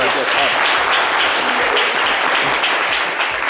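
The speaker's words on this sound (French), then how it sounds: "applaudissez pour Kadim" Steady applause from a studio or live audience for a guest named Kadim, dense continuous clapping that stays even and loud from start to finish.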